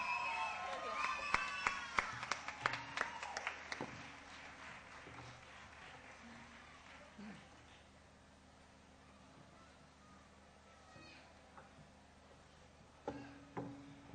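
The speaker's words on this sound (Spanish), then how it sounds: "aplauso para Romina." Audience applause for a performer named Romina at a folk music festival, a dense burst of clapping at the start that thins out, then a low, quiet room with scattered sounds and a brief flare near the end.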